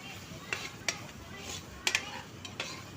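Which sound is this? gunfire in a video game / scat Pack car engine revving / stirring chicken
stirring chicken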